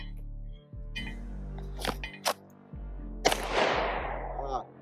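Handgun shots fired on a range during holster draw practice, a few sharp loud cracks spread across the moment, one followed by a long ringing decay, with low steady background noise.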